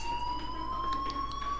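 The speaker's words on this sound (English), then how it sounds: "Do you hear that fire alarm?" A fire alarm in the Life Is Strange video game sounds a steady electronic tone, loud and continuous, with faint pulsing beeps layered over it and no talking.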